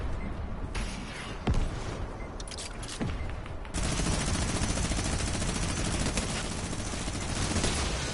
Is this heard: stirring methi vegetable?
no